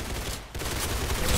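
In the video game Arsenal, a short, dense burst of gunfire crackles twice around a brief pause, close and fairly loud.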